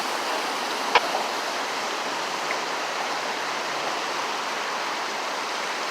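Water pours from a broken water main at Neponset Circle in a steady, close rushing hiss with one brief knock early on.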